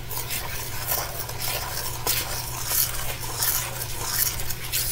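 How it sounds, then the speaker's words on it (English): A spoon stirring chopped egg in a buttered pan: a steady, close scraping and rustling swirl with faint sizzle underneath, continuous throughout. "Stir that up really good."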